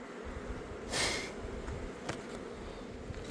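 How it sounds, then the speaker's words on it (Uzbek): Honeybee swarm at a mountain apiary, heard as a dense, steady insect hum with a brief louder surge of buzzing near the start, close and continuous. "Ro'y qattiq ro'y bo'lyapti hozir"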